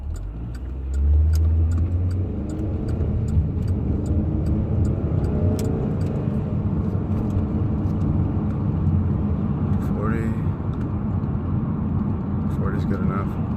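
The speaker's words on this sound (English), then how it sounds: "Pay attention to all these cars" Steady roar of road traffic with cars rolling past, broad continuous rumble from start to end, while a voice talks over it.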